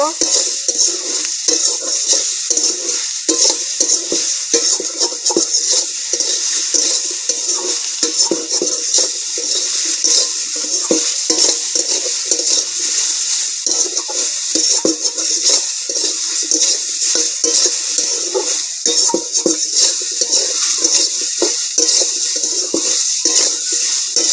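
Small hilsa fish frying with ground coriander and black pepper in a pan, a loud, dense, continuous sizzle with steady stirring scrapes running throughout.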